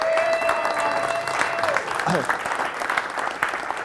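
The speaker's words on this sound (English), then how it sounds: "Give him a round of applause." An audience gives a round of applause at a weekly gathering, a sustained burst of clapping under a voice that keeps talking, fairly close and steady.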